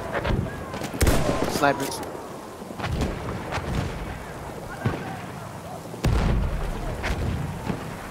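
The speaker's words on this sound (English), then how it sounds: "you're crawling right into fucking artillery fire" Booming artillery fire and scattered gunshots crash through a Battlefield 1 multiplayer match, several heavy hits spaced over the stretch, some near and some distant, while players talk over the battle.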